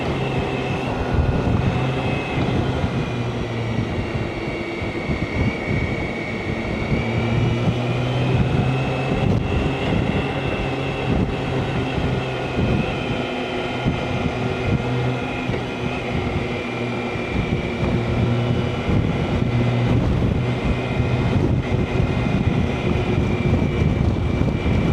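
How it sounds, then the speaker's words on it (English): Wind roaring steadily around a rider on a BMW K1600 GTL touring motorcycle in New Mexico, a continuous loud rush of buffeting air layered over the bike's low, even engine drone, with no talking. "Wind is definitely starting to pick up."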